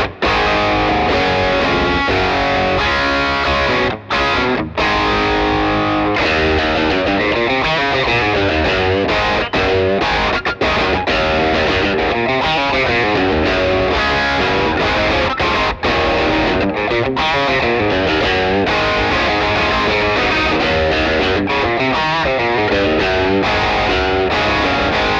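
Distorted electric guitar played through a Victory VX100 Super Kraken amplifier with gain at halfway, thick and saturated, with sustained chords and riffs going on continuously and loudly without any voices.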